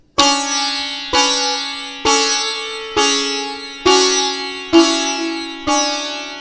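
Seven sitar strokes ring out at a steady, unhurried pace, each sharp pluck striking the first sympathetic string and blooming into a shimmering, resonant tone that decays before the next.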